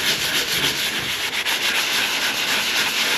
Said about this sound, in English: I'm going to give it a sand